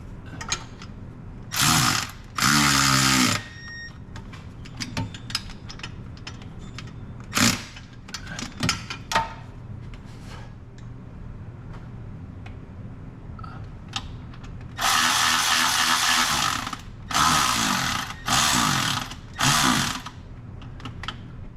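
A 16mm bolt tightened with a ratchet on a Porsche Boxster 986 during engine reassembly, with several separate bursts of quick clicking and rasping, some short and some longer, between quieter stretches of handling noise.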